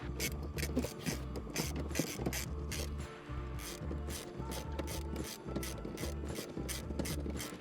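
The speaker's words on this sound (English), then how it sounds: "This is how you remove the rear seats of your 4th Gen Tacoma. 4 bolts, 14 mil socket, easy as can be." A ratchet with a 14 mm socket turns out the rear seat bolts of a 4th-gen Toyota Tacoma, giving rapid, repeated clicking in quick bursts close by, with a short pause near the middle.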